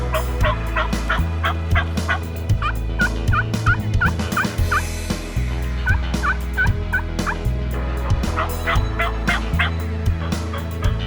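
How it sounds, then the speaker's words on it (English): A wild turkey gobbler gobbles repeatedly in the woods at dusk, loud rattling bursts coming in quick clusters, with other gobbles answering throughout. "how he usually goes about roosting a gobbler"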